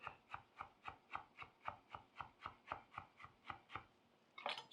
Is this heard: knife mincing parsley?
yes